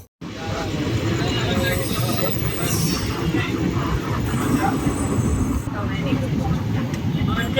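Hyderabad Superfast Express train travelling between stations, a steady, loud rumble of the moving carriage with continuous low-frequency rattle and faint voices in the background throughout.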